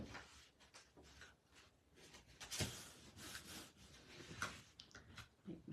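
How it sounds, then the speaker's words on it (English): Quiet, repeated rubbing strokes of a bone folder burnishing paper over chipboard, close and soft, in uneven pulses with no talk. "I'm going to give it a good burnish with my bone folder."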